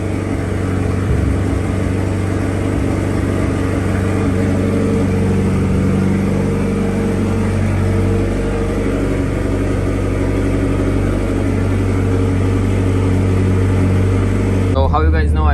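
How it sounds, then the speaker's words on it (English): Mitsubishi Evolution X with a full titanium exhaust, a loud close engine rumbling and pulling in first gear with a steady low drone, a person speaking over it, and a brief clunk at the very end. "I got the full titanium exhaust and it's pretty loud."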